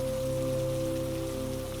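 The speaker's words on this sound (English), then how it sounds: "listening to the rain, the way a person listens to something they have heard many thousands of times" Steady rain patters continuously on surfaces at a train station, a dense even hiss with a low steady hum beneath, no voices.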